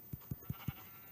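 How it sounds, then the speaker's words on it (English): Four short, evenly spaced sheep bleats from the Minecraft video game, each a clipped, close, bright cry with brief gaps between them and nothing else heard. "Sheep! Must have sheep."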